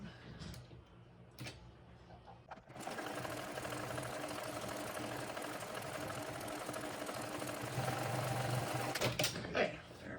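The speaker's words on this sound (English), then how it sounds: "we're going to top stitch along the seam" A sewing machine top stitches along a seam on a Penelope backpack, running in one long steady mechanical whir after a few brief starts, close and alone.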